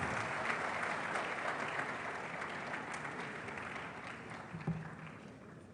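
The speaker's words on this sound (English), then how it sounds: "Ladies and gentlemen, please give him a round of applause." At a public lecture at KNUST, an audience gives a sustained round of applause for Professor Christian Cranting, a broad, soft wash of clapping from a large room that slowly tapers.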